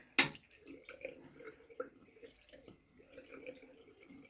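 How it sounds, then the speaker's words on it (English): Water runs from a tap into a bathroom sink during face washing, a faint, steady splashing trickle after a sharp knock at the start, with no talking. "I'm going to wash all this crap off my face."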